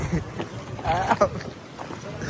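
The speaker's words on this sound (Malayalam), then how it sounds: "നല്ല കാറ്റുണ്ട് കേട്ടോ. നല്ല അടിപൊളി കാറ്റാണ്." Strong wind buffets the microphone at an open-air roadside tea stall in Malappuram, a steady rushing roar with gusty swells, while people talk faintly underneath.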